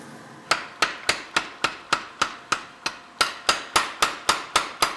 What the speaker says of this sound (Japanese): 厚みを意識しながらハンマーで叩いて形を整えていく。